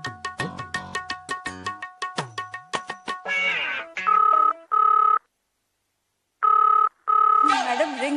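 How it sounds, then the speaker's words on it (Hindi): A telephone call goes unanswered: a rapid run of dial tones leads into repeated electronic ring bursts separated by gaps, loud and near, with no one picking up. "मैडम रिंग जा रही, कोई उठा नहीं रहा है।"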